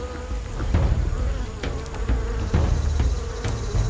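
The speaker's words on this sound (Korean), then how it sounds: "이 안에 지금 구멍에서 나오는 것들이 일벌들인데 흙을 자꾸 물어다가 바깥으로 이동하는 그 장수말벌들이에요" Asian giant hornets swarm around the entrance of an underground nest in soil, workers carrying dirt out of the hole, making a steady, close, continuous buzz with low droning wingbeats and no talk.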